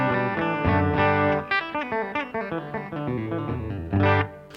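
A clean electric guitar through a Strymon Iridium amp modeler on a Fender setting plays a quick melodic phrase of plucked notes and chords, bright and amplified, with no voices.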